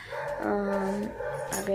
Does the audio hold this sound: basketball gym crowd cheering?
no